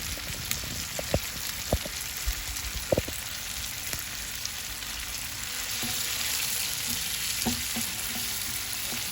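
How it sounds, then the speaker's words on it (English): Garlic prawns frying in masala in a pan give a steady soft sizzle throughout, with occasional clicks and taps of stirring, no voices. "at this moment it's been 5 minutes, so I'm already turning the prawns"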